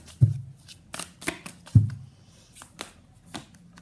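Tarot cards being shuffled by hand, a run of crisp riffling bursts and soft slaps with a few heavier thumps, close and fairly quiet, with no voice.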